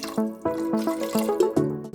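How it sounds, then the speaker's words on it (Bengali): Water poured into a pan of frying spice mixture while cooking doi katla, a Bengali yogurt fish curry, giving close, bubbly trickling and sputtering splashes in uneven bursts, with no speech. "এই স্টেজে দিয়ে দিতে হবে পরিমাণ মতো জল।"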